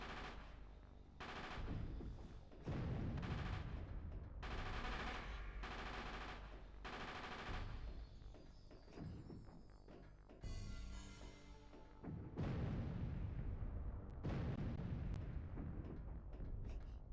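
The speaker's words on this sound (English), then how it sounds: "Explosions. Not sure why, but explosions." Loud video game explosions from Castlevania 64 boom in rapid succession, heavy rumbling blasts with short gaps between bursts that continue for many seconds.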